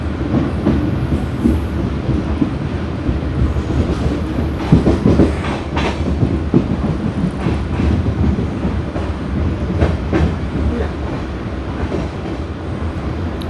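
The Mangaluru–Mumbai Superfast Express rolls along the Konkan Railway, heard from inside an unreserved general class coach as a loud, continuous rumble with rhythmic clickety-clack of wheels over rail joints.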